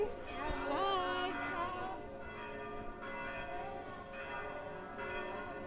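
Church bells ring around midday in Rome, a layered metallic pealing that carries through the open air, with people talking nearby over the ringing.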